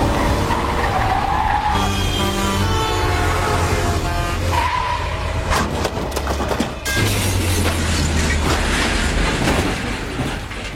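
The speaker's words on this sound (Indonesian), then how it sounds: "Dan saat kedua mobil itu terguling" Two cars in a Chinese mystery film chase skid and roll over on a highway, a loud sustained screech of tires with crashing impacts and engine roar, dense and continuous throughout.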